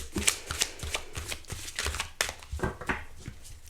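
Marseille tarot cards riffle and slap in a steady, close shuffle, repeated papery bursts with no voice over them.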